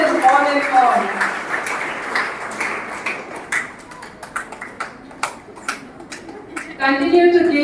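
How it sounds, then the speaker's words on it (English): Scattered, thinning clapping from an audience at a school society's jubilee inauguration, applauding young students, with individual claps standing out near the end and a voice speaking over the start and finish. "Continue to give a big round of applause to the young students here present."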